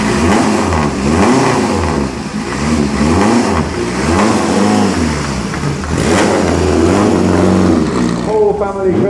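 Classic Ferrari cars, including 1953 models, rev their engines at the Concorso d'Eleganza Villa d'Este, loud close engines rising and falling in repeated throttle blips with a deep rumbling idle between, with a voice speaking over them.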